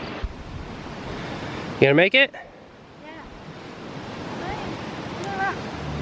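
Steady rushing water from a Colorado mountain creek fills the scene, a constant broadband roar, with a voice briefly speaking over it.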